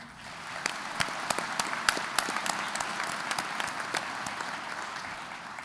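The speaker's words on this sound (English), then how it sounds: "Let's do one final applause for all of them." A crowd at the Kirtland Community College commencement ceremony gives steady, sustained applause with scattered sharp claps standing out, heard from a distance and fairly soft.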